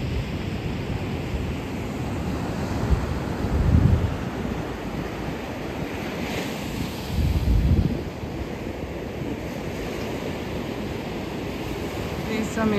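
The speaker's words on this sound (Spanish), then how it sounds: "vamos a ver cuántas olas puede agarrar Simon y Daniel." Ocean waves surge and break on the beach at Playa Mahahual on the Oaxaca coast, forming a steady roar with heavier swells at intervals, under strong wind buffeting the microphone.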